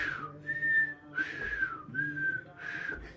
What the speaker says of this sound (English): Little puckered lip if you want to get a little whistle in there like we did before.